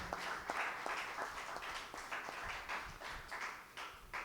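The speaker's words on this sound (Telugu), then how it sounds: "వారందరిని కూడా అభినందిస్తూ గట్టిగా చప్పట్లు కొడదామా?" A church congregation at a Holy Mass breaks into sustained applause, dense clapping from many people that keeps an uneven, lively rhythm throughout, with no speech over it.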